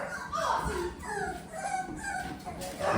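Bulldog puppies with kennel cough yip and whimper in short, high, close cries that come and go in uneven bursts.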